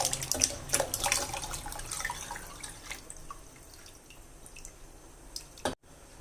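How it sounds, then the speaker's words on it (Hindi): Washed rice tipped into a pot of water just coming to a boil for chicken biryani, a brief burst of watery splashing and pattering up front that settles into a softer liquid trickle, close by with no talk. "जैसे ही पानी गर्म होगा हम ये वाले चावल जो है वो इसमें डाल के पकाएंगे।"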